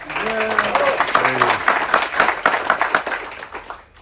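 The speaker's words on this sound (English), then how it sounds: "Big applause for our cruise director, Miloš." Crew and passengers aboard the Amadeus river cruise ship applaud their cruise director, a burst of clapping with a voice speaking over its start before the claps taper off.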